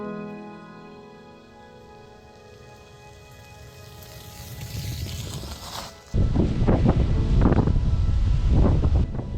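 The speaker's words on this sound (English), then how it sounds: "It is very windy." Wind rumbles and buffets the microphone, building gradually before turning into loud, gusty roaring for the second half.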